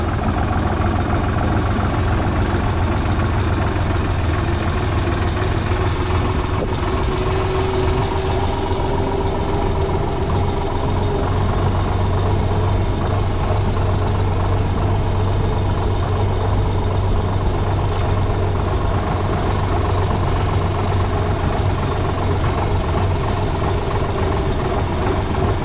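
A tractor engine idles steadily in a Turkish village field during the barley and wheat harvest, a continuous low rumble that holds even and fairly loud for the whole stretch with no talk over it.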